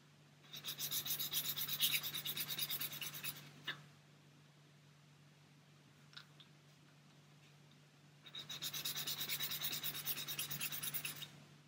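Two bursts of quick, scratchy rubbing are heard as flash is sanded from the mating surfaces of 1/48 scale Eduard Lysander plastic kit parts, close and soft with a quiet pause between.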